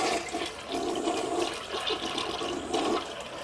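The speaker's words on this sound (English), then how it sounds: "And when you're done, just go ahead and flush it." Toilet flushing after being scrubbed with Comet cleanser and a brush, a steady rushing and gurgling of water that continues throughout, heard up close with no voices.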